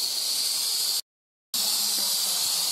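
A Soffritto pressure cooker vents steam in a loud, steady hiss that cuts out briefly for half a second, then resumes just as strongly.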